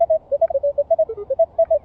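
A metal detector sounds a rapid series of short electronic beeps at shifting pitches while sweeping over a target by a street, loud and close with no talking.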